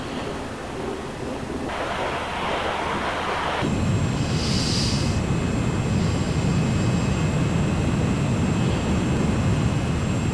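A steady roar of an F-100 Super Sabre jet fighter passing overhead in a flight simulator, broad and rushing like wind, swelling louder midway and holding, with a thin high whine above it.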